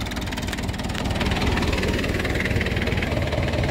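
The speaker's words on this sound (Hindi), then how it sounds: "हाँ इंजन में दम है भाइयों" A 1972 International 276 tractor, made in England and rated at 37 HP, runs with a tiller attached, its diesel engine thudding in a fast, steady, close-up knocking rhythm that holds loud throughout.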